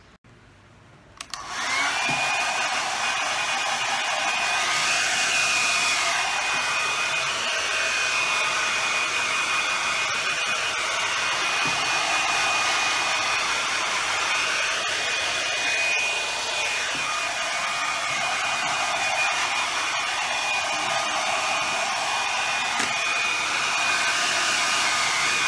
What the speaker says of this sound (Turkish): Şimdi hemen saçlarımı kurutuyorum ve nasıl olduğuna bakalım.